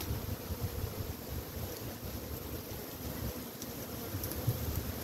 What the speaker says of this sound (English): They're trying to make themselves an open air hive.